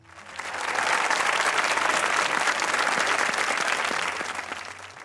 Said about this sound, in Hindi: तशरीफ लाते हैं आपकी भरपूर तालियों में